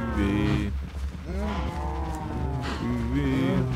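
Cows in the video game Minecraft moo repeatedly, with several long, overlapping moos following one another loudly and closely.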